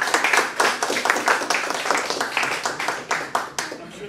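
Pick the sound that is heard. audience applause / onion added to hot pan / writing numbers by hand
audience applause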